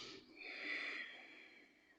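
Deep breathing during a yoga stretch: a single long, airy breath that rises, peaks and fades out over two seconds, close and soft, with no talking.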